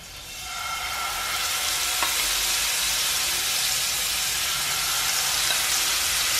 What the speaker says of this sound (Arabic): غندير شي شويه ديال الزيت النباتيه سخون. غادي نضيف لي كروفيت